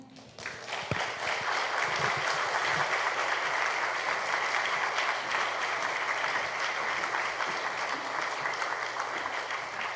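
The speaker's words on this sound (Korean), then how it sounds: "우리 목사님 나오실 때 우리 박수로 맞아주시고" Church congregation at a Wednesday worship service applauding as the pastor comes forward, steady sustained clapping from a crowd throughout, filling the room at an even level.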